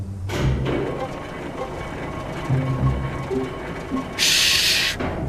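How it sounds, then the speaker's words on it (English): The animated steam engine Thomas the Tank Engine chuffs in with a hiss of steam near the end, and rumbling rail sounds sit under a voice speaking. "But then, Thomas arrived."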